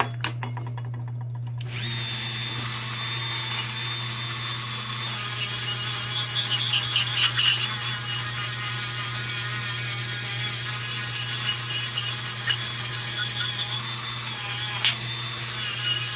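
Sandpaper of 180 grit rubs against the tin of a 1945 Dietz No. 2 Blizzard lantern during restoration, a steady close scraping that starts after a short pause and continues without talk over a low hum.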